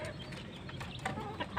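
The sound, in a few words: native chickens clucking while eating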